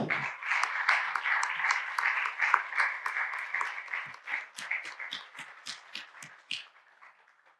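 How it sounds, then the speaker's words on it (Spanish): An audience at a philosophy seminar breaks into loud, dense applause that thins into scattered, separate claps and dies out toward the end. "Un fuerte aplauso para Javier Correa"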